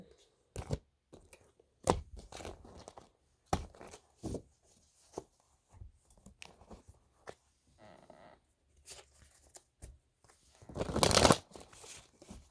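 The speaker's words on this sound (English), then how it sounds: "I'm mixing the cards up" Tarot cards being shuffled by hand during a reading, giving several short riffling bursts with one louder, longer shuffle near the end, close to the listener, with pauses between.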